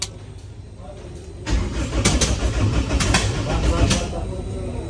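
A drag racing car's engine cranks roughly and repeatedly with a low rumbling churn, sputtering without catching, while a voice speaks nearby.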